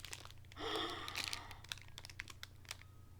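Crinkly plastic packaging of a peppermint crunch pretzel is handled up close, giving a burst of crackling rustles followed by scattered sharp crinkles and ticks, fairly quiet and with no talking.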